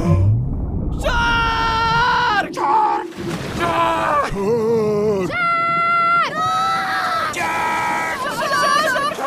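Loud, shrill, repeated screams in an Italian Shark Week television advert on Discovery Channel, several long sustained wails with sliding pitch, broken by brief gaps and backed by crowd-like noise.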